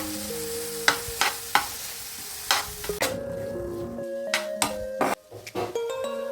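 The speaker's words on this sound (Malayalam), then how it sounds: "വഴറ്റിയെടുക്കാം നമുക്ക്. ആ ചെമ്മീൻ്റെ കൂടെ തന്നെ ഇട്ടിട്ട് പഴന്നു വന്നോളൂ." Garlic and prawns sauté in a pan with a steady low sizzle, punctuated by sharp clinks and scrapes of a spoon stirring, close and clear.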